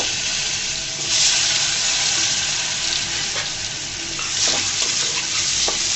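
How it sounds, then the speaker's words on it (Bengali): A potato fries in hot oil with a loud, dense, continuous sizzle and crackle throughout, swelling slightly at moments, with no talking. "আলুটাকে আমি ভেজে নেব।"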